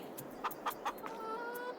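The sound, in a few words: chickens clucking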